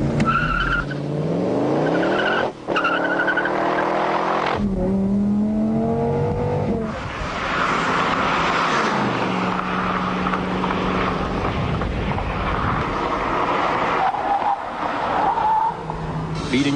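A Saleen Mustang race car circles a track, its engine rising and falling through the gears with tire squeal on the corners, loud and continuous for the whole stretch.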